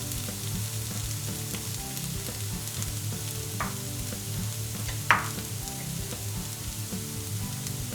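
Onion frying in a pan for a vegan pumpkin pasta sauce, a steady close sizzle with soft crackles and one sharp clink of a utensil partway through, no voices.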